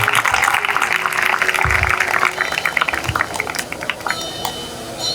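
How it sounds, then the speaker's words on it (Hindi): An audience applauds at a Hindu devotional discourse for Narasimha Chaturdashi, a dense burst of clapping that thins into scattered claps over a few seconds. "इनके लिए भी जोरदार ताली हो जाए।"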